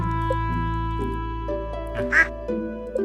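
A series of cartoonish duck quacks over a steady synthesized game tune, with chiming notes in a regular rhythm, in Stardew Valley.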